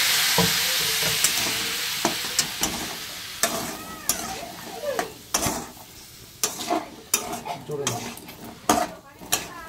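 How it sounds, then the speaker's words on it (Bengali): Spices fry in a pan as water goes in bit by bit, starting with a loud hiss that fades. Sharp clinks and scrapes of a spoon against the pan follow, with a voice talking in the background. "অল্প অল্প করে জল দিয়ে কষিয়ে নেব ভালো করে"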